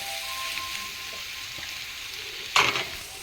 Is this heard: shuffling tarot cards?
no